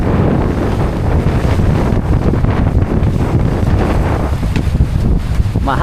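Strong wind over rough Pacific sea in bad weather buffets the microphone in a steady, roaring rush, with the wash of rough sea underneath, loud and continuous throughout.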